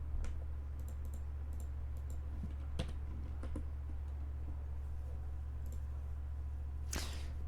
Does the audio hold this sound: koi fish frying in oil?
no